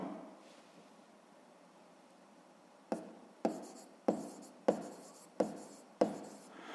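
A pen writes on paper at a desk, a soft scratchy rustle at first, then a run of six distinct quick strokes in steady rhythm, close and quiet with no voices.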